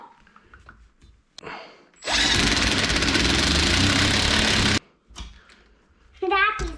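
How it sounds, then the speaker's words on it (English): A power drill drives a screw into a computer desk in one loud, close, sustained whir of nearly three seconds. Brief clicks and handling noises come before and after it, and a voice is heard near the end. "the good thing about using the drill is this is going to be way tighter than if we had to do it by hand."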